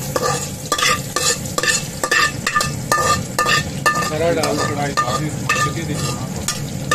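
Meat browning with ginger in ghee in a large pot, a steady loud sizzle broken by regular scraping and knocking strokes of a stirring utensil against the metal.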